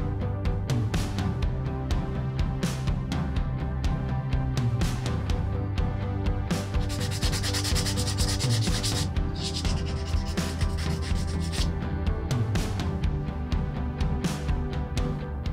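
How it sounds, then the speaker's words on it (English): Wooden molds for wet-molding leather pouches are sanded by hand, with a steady back-and-forth rasping rub repeating in quick strokes, close and continuous throughout. "I do this by using files and a lot of hand sanding."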